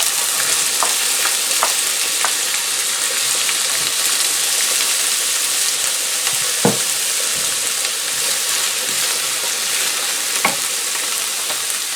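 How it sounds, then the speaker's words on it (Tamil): Chopped bell pepper sautéing in a pan, a steady oily sizzle with occasional light clinks and scrapes of stirring, close and continuous with no talking. "இந்த வெட்டி வச்சுருக்கிற பெப்பரை கொஞ்சம் வதக்கி எடுக்க போகிறேன்."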